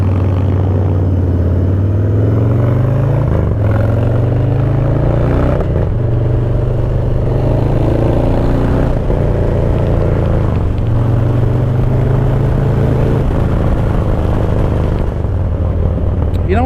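A Harley-Davidson Low Rider S motorcycle engine rumbles loud and close throughout a ride, its deep throb rising and falling with repeated throttle changes and gear shifts, wind and clatter mixed in.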